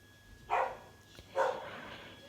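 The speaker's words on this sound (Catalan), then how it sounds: "això que sentiu són els meus gossos que volen anar al pati, que volen anar a pixar" Pet dogs bark indoors, eager to be let out into the yard: two separate muffled woofs about a second apart, moderately close, with a quiet room tone between them and no talking.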